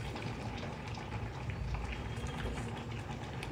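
Cumin seeds dropped into hot oil in a pan for a bendakaya curry, sizzling with a dense, steady crackle and fizz throughout, close up and without speech.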